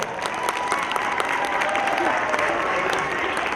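An audience applauds at a school annual function, with dense, continuous clapping that fills the hall loudly from start to finish.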